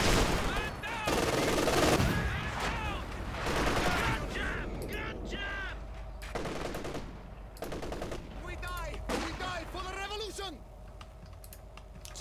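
Rapid bursts of machine-gun fire rattle in a Company of Heroes 2 match while soldiers lay S-mines, loud and sustained in clustered volleys, with a voice talking over much of it.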